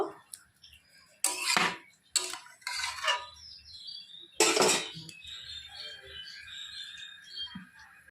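Metal clatters and clinks as a lid is handled and set onto a pot of cooking goat meat curry, several bright close scrapes and knocks followed by quieter ringing.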